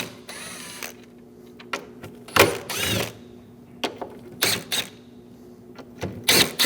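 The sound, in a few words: 8mm socket removing throttle body bolts on Ram 1500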